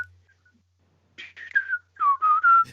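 Whistling from a wrestling entrance theme, a string of short, bright whistled notes that start after a near-silent second and come in clear bursts, ending in a few sustained tones.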